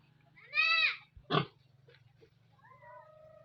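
Newborn piglets on a backyard pig farm give a drawn-out high squeal, then a shorter sharp squeal, followed by faint grunts and thin calls over a low steady hum.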